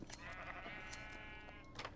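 A sheep in Minecraft gives a drawn-out, wavering bleat, fairly close and clear, against a steady background of game noise.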